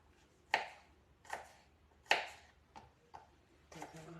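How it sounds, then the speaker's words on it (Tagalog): A knife slices garlic on a cutting board for chicken tinola with papaya, giving six or seven crisp, irregular chops at close range with quiet gaps between them and no voices. "Tapos yung garlic, ganito din paghiwa natin guys."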